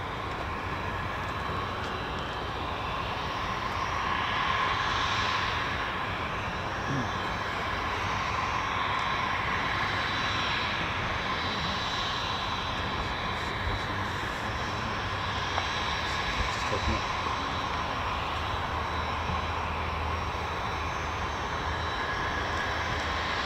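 Fighter jet, an F-15 or F-35, taxiing along the runway at an air base, heard as a steady, continuous engine roar and whine at moderate distance throughout, with no talk.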